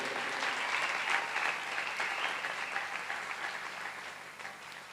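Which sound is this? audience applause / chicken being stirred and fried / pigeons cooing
audience applause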